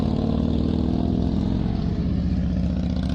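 Motorcycle ridden in circles for a practical licensing exam, its steady mid-pitched engine drone running close and continuous with no talk.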